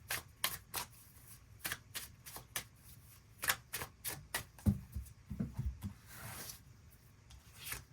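Tarot cards are shuffled by hand in a quiet room, a run of crisp riffling bursts and soft sliding rubs, close and fairly faint, with no talking.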